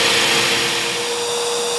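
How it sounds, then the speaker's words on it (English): A workshop shop vacuum and dust collection system run with a saw: a loud, steady whining roar with a sustained hum tone, alone and close. "you'll hear the vacuum and the dust collection turn on also"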